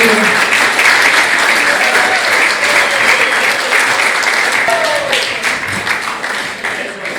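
After a live acoustic cover song at a local talent showcase, a room full of listeners gives loud, sustained applause. The dense clapping runs unbroken for about seven seconds and eases slightly near the end.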